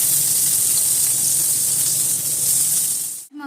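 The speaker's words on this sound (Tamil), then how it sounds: "பொரிஞ்ச உடனே 2 பொடியாக கட் பண்ண வெங்காயம் போட்டுக்கலாம்." Steady, loud sizzling of chopped onions frying in hot oil, a bright continuous hiss that cuts off abruptly at the end.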